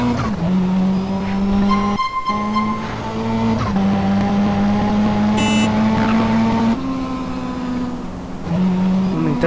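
A car driving in GTA San Andreas gives a loud, steady engine drone whose pitch wavers slightly throughout, with a brief tire squeal cutting in near the middle.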